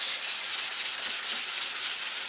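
Steady back-and-forth rubbing of 500 grit sandpaper on a P-47 model before painting, a soft, rhythmic hiss repeating several times a second, close by with no voices.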